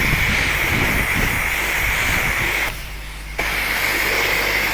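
Loud, close, continuous hiss of a pressure water spray at a car wash rinsing a rag, broken by a brief pause of about half a second before the spray resumes.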